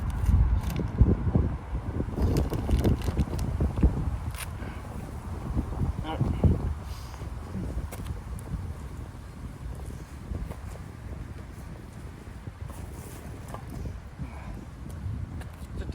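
Wind buffets an outdoor microphone during a dips workout, giving a continuous rumbling roar that is strongest early and eases into a steadier, fainter rush.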